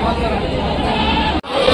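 Sheep and goats bleat amid the steady crowd hubbub of a weekly livestock market at Rajarampalli, a dense continuous din with voices chattering throughout and a brief drop near the end.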